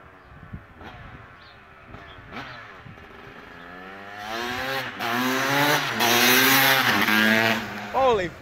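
A 1997 Kawasaki KX250 dirt bike engine revs hard and close, its two-stroke note rising and falling in repeated sharp bursts that grow louder toward the end, with a voice speaking early on.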